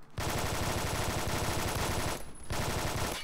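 A Groza rifle in a video game fires long rapid bursts of gunfire, loud and close, with a brief pause before the shooting resumes.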